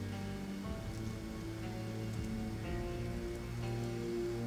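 Steady rain falls in the video game Project Zomboid, a constant hiss of drops spread evenly over a droning, tonal game background with no talking.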